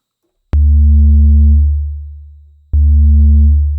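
Two booming 808 kick-bass hits made in Logic Pro X for tech house, each starting with a sharp click and a long deep tail that slowly fades, loud with nothing else.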